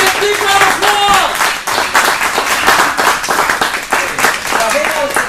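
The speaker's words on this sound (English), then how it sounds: "Give Randy a big round of applause!" A roomful of people at an anniversary event in Stockton applauds Randy Taylor, with dense, steady clapping running throughout, a few whoops, and voices mixed in over the top.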